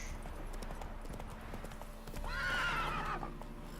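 Hooves of the horse Roach in The Witcher 3 clip-clop in a steady galloping rhythm, with a loud whinny rising midway over game ambience.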